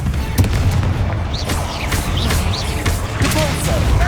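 Blasting spell explosions in Hogwarts Legacy: repeated booming blasts with crackling bursts and whooshing magic streaks, loud and close against continuous game battle noise.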